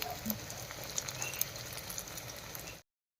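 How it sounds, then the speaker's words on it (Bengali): Pumpkin leaf paturi parcels fry in hot oil with a steady, quiet crackling sizzle and scattered small pops, close and continuous until it cuts off abruptly into silence. "একইভাবে সবগুলো ভেজে নিচ্ছি"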